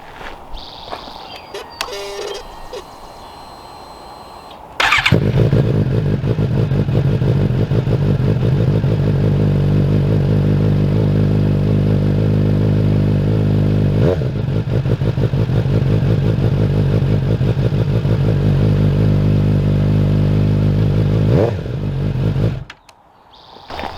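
A 2020 Suzuki GSX-S750 motorcycle with a Yoshimura Alpha T exhaust, baffle removed, starts after a few seconds of quiet handling noise and settles into a loud, steady deep idle for about seventeen seconds before cutting off abruptly.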